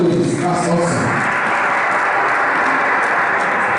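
Audience applause at an awards ceremony, steady dense clapping from a crowd with a voice talking over the start before the clapping carries on alone.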